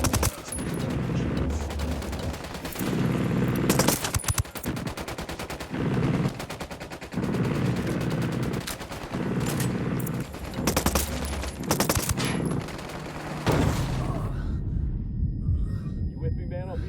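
Sustained bursts of automatic gunfire from Ghost Recon Wildlands combat, loud and close, with repeated rattling volleys broken by short pauses, under occasional voices and game sounds before fading to quieter ambience.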